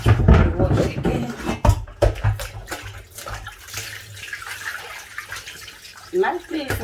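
Water runs and splashes while fish or soup ingredients are washed by hand under a tap, with irregular sloshing and dripping, loudest at the start, and faint talk in the background.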